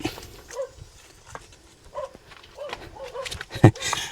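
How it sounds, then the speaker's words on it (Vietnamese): Dogs bark intermittently in a remote mountain settlement, mostly faint and distant against outdoor rustle and scattered knocks, with a louder bark near the end. "Tới đây thì mình nghe thấy chó sủa rồi đấy."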